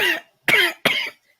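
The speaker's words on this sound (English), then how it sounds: "I've had this cough" Three harsh coughs from a person on an online call, one quick burst after another with short silent gaps in between, close and loud.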